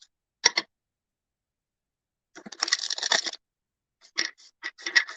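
Cards are shuffled in a few quick riffling bursts separated by silent pauses, close up and fairly quiet.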